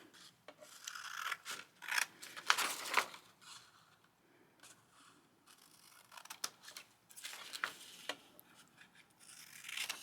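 Scissors snip and rasp through paper while cutting out a homemade card envelope, a run of close, quiet cutting strokes in irregular bursts with short pauses between them and no talking.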